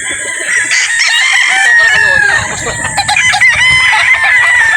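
Gamefowl roosters crowing and chickens clucking at a game farm, several loud, close crows overlapping one another in quick succession over a busy backdrop of clucks.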